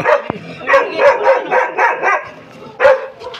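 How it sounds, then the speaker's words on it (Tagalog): A dog barks repeatedly at close range in an irregular series of sharp yaps, with a brief pause before one final loud bark. "Aso po."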